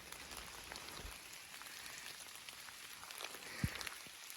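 Rain falling outdoors during a spring shed antler hunt in the woods, a faint, steady patter of drops on leaves and ground with a few slightly louder nearby taps.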